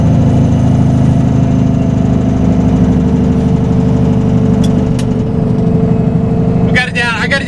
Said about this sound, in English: Alright, we're throwing the Jake brake on.